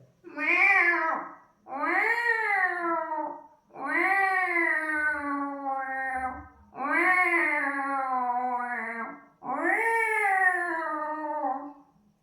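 A student's voice imitates a cat, giving five long, drawn-out meows one after another, loud and close, with short pauses between them.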